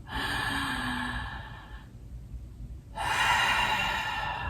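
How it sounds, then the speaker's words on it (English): A full, slow breath taken during pranayama yoga practice: a long airy inhale, a short pause, then a strong breathy exhale, close to the microphone and with no talk. "Let's take a nice full breath."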